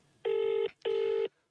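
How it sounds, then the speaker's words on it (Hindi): A phone call rings out on speakerphone: two long, even ringback tones, evenly spaced, clear and close, with quiet between them. "तो मैंने सीधा स्पीकर पे ले लिया है फोन को"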